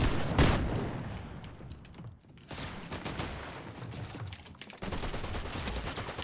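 Fortnite gunfire crackles in rapid bursts, with loud repeated shots at the start, a short lull, then renewed sustained firing toward the end.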